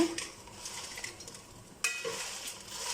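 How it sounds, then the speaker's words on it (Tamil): Guntur dried red chilies fry quietly in a pan with a soft, low sizzle, while occasional stirring scrapes and a sudden clink of metal against the pan punctuate the hiss, for temple-style puliyogare powder. "மிளகாய் நல்லா ஃப்ரை ஆகிடுச்சு பாருங்கள்"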